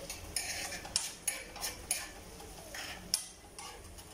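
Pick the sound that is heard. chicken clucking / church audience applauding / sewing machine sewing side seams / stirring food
stirring food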